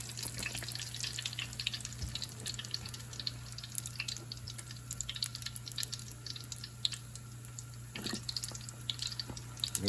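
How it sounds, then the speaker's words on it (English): Pizza dough for a Neapolitan montanara fries in hot oil, a steady dense sizzle and crackle with a low hum underneath, continuous and close with occasional sharper pops. "Let that fry in there for about a minute is all it needs."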